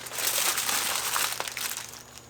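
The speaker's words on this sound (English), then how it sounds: "I gotta lay the foil down" Aluminum foil crinkles and rustles steadily up close as it is laid down to wrap a smoked pork belly, loud and continuous for a couple of seconds with no talking.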